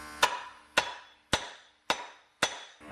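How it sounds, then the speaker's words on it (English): A hammer raps sharply on a skid steer wheel bearing nut, five crisp metallic strikes at an even pace, each ringing briefly before the next, close and alone. "I always give it a couple raps with a hammer just to make sure everything is seated"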